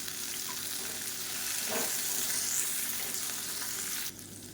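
Onions and dried red chillies sauté in oil in a pan for an onion thokku, a steady close sizzle with a soft scrape of stirring near the middle, the frying noise dropping abruptly near the end.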